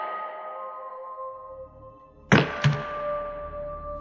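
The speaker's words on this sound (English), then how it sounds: "She awoke to the thump." Two quick heavy thumps close together, as if from a closet door in a house at night, standing out loudly over a quiet droning hum.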